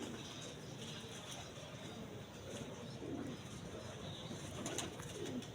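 Pigeons of a fancy breed cooing softly at a loft, low murmuring coos mixed with a few faint chirps over steady background noise, with brief soft calls recurring around the middle and end.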